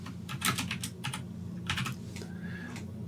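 Keys click on a computer keyboard in short quick bursts of typing, soft and close, separated by brief pauses, with a faint thin tone near the end and no voices.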